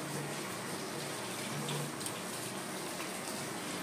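Water pours steadily into a pan of bhetki fish curry in a home kitchen, a continuous close gushing wash with no talk.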